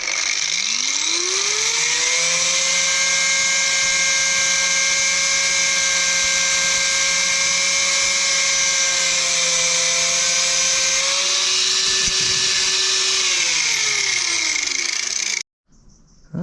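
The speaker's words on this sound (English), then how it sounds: "Now I'm just going to give it a little bit of a grind down." A power grinder works a metal part while fitting foot pegs and a sump guard to a 2023 Honda NC750X DCT. It gives a loud, sustained high whine that dips briefly under load and cuts off abruptly near the end.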